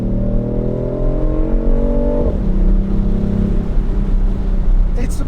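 A 1.5 Mini Cooper engine in a 2019 BMW i8 Roadster revs up with rising pitch, drops sharply, then settles into a loud throaty idle rumble.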